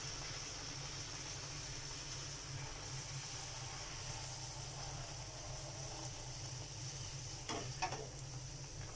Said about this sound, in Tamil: அதையும் நம்ம இப்போ எண்ணெயில் போடலாம்.